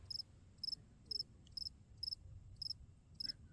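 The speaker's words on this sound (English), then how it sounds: "A little cricket has made its home here." A small cricket living high on a rock cliff chirps in short, regular bursts, about seven evenly spaced trills, faint and nearby over a quiet low background hush.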